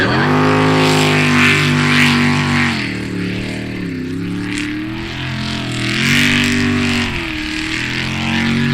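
Sprint race boat engines roar loudly at a race start under the green flag, giving a dense, strongly tonal drone that rises, dips, then surges again.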